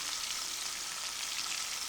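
Scallops sizzle in a hot pan while being basted, making a steady, close, bright crackle of frying fat with no voices over it.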